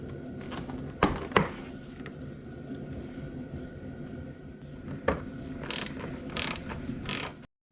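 A ratchet clicks in short ticking runs as a bolt is backed out on a 2009 Mini Cooper, close and fairly quiet, with a few sharper metallic knocks in between.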